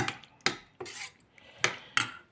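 A utensil clinks and scrapes against a metal pot of vegetable soup in five sharp, evenly spaced strokes, close by with no talking.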